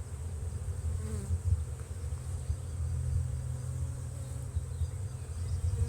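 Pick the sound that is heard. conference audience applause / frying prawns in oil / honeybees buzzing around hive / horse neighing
honeybees buzzing around hive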